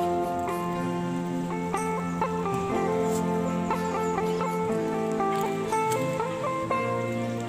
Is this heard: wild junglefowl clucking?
yes